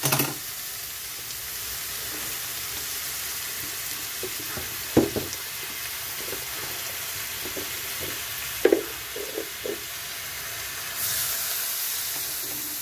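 Water is poured into a pan of frying taro stems with shrimp, giving a steady sizzle with a few sharp splashes and stirring clatters; the bubbling rises slightly toward the end, with no talking.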